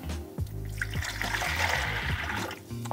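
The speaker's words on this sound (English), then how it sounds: "I'm just gonna pour the water in there." Water poured into a Freezimer countertop ice maker, a close trickling and splashing into the reservoir over a low steady hum, lasting a few seconds.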